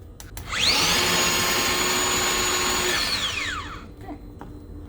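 A small handheld mini garlic chopper motor whirs through onions and garlic, spinning up to a steady, close high-pitched whine for about three seconds before winding back down, with no voices.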